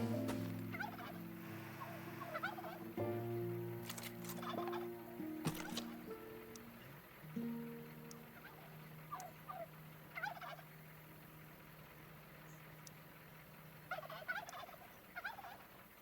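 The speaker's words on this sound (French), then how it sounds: "Dindon bleu de Suède 55." A Swedish Blue turkey in the farming game Farm Together gobbles in several loud rattling bursts, with quieter gaps between calls and no talk over it.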